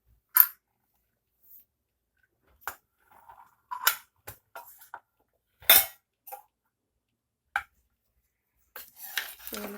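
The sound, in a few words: pressure cooker lid being opened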